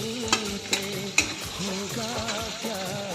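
Chili and garlic paste sizzles as it hits hot tempering oil with spluttering cumin, while a spoon stirs and clinks sharply against the pan a few times.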